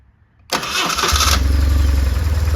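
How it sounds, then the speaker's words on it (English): A BMW R1150 GS motorcycle with a new starter motor cranks briefly after a near-silent moment, catches, and settles into a loud, steady, throbbing idle close by. "Ignition on, starter on."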